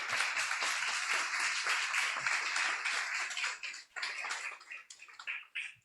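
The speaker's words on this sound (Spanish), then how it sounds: "¿Cuántos aplauden al Señor por su resurrección?" A church congregation claps during a sermon on the resurrection, a dense, bright round of clapping that thins into scattered bursts toward the end.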